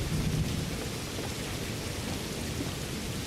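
Steady rain with a low rumble of thunder in the video game Skyrim, a continuous dense hiss over a deep rolling undertone, with no voices.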